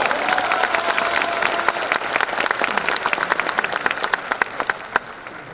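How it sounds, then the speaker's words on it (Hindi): An audience at an event bursts into loud, steady applause, with dense clapping filling the whole stretch and a few sharper individual claps standing out toward the end. "एक बार जोरदार तालियों के साथ"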